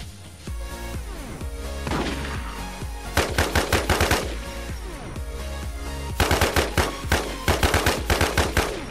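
Rapid nail gun fire in the game Infestation, heard as dense bursts of sharp repeated shots, with two especially loud rapid volleys standing out over continuous background combat noise.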